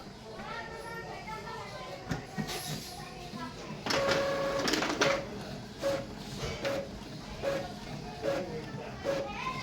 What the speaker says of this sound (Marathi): आता मंडळी मी प्रिंट देतो आहे बघूया आता चालू होते का